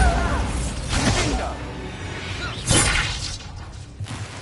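A Bombarda spell blast in Hogwarts Legacy bursts with shattering, crashing impacts, one near the start and a louder one midway, trailing off into rumbling debris.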